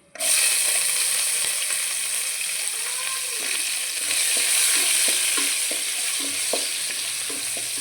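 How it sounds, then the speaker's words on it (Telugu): Whole spices, bay leaf, mace, cloves and sliced green chillies fry in oil left over from frying fish, giving a loud, continuous sizzle with close stirring clicks and scrapes. "ఫిష్ ఫ్రై చేసుకున్న ఆయిల్లోనే ఇవన్నీ వేసేసుకోవాలన్నమాట"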